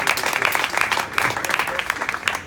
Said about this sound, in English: I want a big applause.